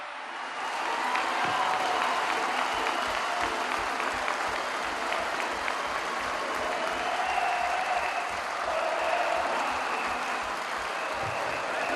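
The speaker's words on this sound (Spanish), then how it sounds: "Fuerte el aplauso para Leandro Santoro." A political rally crowd in Argentina applauds for Leandro Santoro, a loud, continuous wall of clapping from many people that stays steady throughout, with crowd murmur mixed in.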